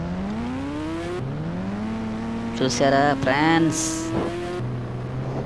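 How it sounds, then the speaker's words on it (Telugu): A motorbike engine in the Indian Bike Driving 3D video game revs up in rising, whining pitch sweeps as the bike speeds along, with someone talking over parts of it. "మామూలుగా వెళ్తలేదు మన బైక్ అయితే స్పీడ్."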